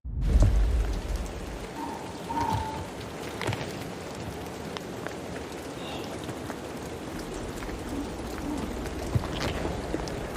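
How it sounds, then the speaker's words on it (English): Steady rain hisses and patters on surfaces throughout, a dense wash of storm noise with occasional louder drops and a low rumble at the start. "with all that background noise from the storm"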